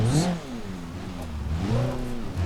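Car on sport tires with small-wheel drive in BeamNG.Drive, its engine revving up and down in repeated surges while climbing a hill, loud and close, with a brief clatter at the start.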